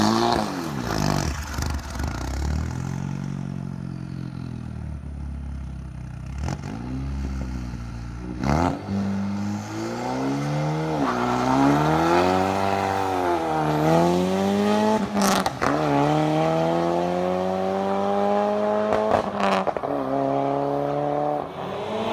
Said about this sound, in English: You can feel the turbo kick in